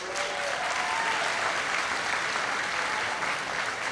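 A large audience applauds at an awards event honouring Austin entrepreneurs, with loud, sustained, dense clapping filling the room at a constant level from start to finish.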